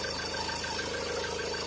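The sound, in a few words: Mahindra Scorpio engine noise when accelerating, missing bolt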